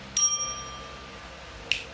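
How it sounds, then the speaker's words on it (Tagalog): A small bell is struck once with a bright, short ring during an Instagram livestream, followed by a second, fainter tap about a second and a half later, over quiet room noise. "At dahil dyan, may bell ako."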